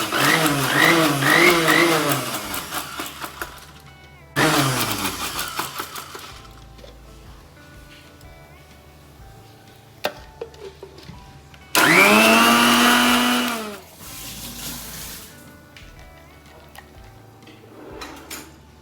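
A blender whirs loudly in several separate bursts, each starting abruptly and cutting off, with pauses of quiet clinking between runs.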